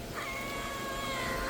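A cat gives a single drawn-out meow, faint and somewhat distant, over a quiet background.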